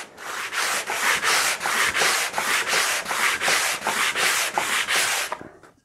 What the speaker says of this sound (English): So it hardly takes any sanding at all.